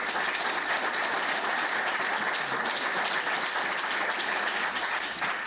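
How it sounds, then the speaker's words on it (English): An audience at a county attorney candidate forum applauds steadily, a dense, even wash of clapping from a room of people that holds at the same level throughout. "Please, applause for them as well."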